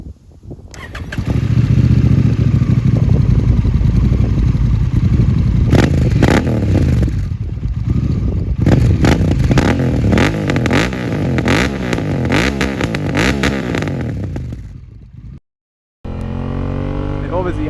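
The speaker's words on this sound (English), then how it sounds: "Even like from the moment you turn it on, the start up on this bike." A Honda Africa Twin motorcycle engine cranks, fires up and revs hard several times, loud and close, then settles before cutting out; brief talk follows at the end.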